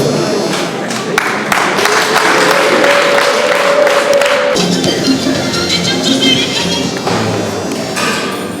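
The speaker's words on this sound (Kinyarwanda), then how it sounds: "dukomere Imana amashyi menshi cyane" Applause at a civil wedding, a crowd clapping loudly and steadily in a dense patter, with a voice speaking over it at times.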